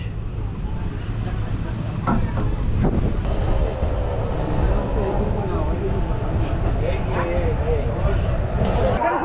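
The Jangipur Road Express rumbles steadily into Azimganj Junction with broadband rolling noise and occasional clanks, running continuously as it slows; a voice talks over it in places.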